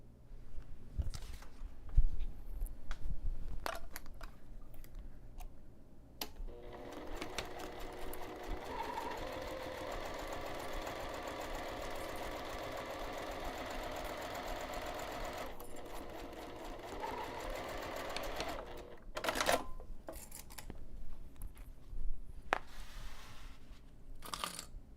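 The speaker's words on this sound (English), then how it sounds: "I'm going to take this over to the sewing machine and sew this pinned edge using a 1/4 inch seam allowance" A sewing machine stitching a pinned fabric edge at a quarter-inch seam for a zipper pocket bag: a few handling clicks, then a long steady run of rapid needle hum, stopping with a couple of sharp clicks.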